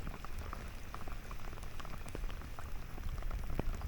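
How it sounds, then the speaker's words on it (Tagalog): Steady rain falls on a shoreline fishing spot, a dense, continuous hiss with scattered close droplet ticks and no voices. "Hindi ko kayang patigilin yung ulan."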